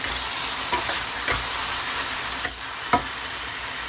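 Canned tuna sautéing in a pan, a steady bright sizzle with a few spoon scrapes and taps, close and continuous.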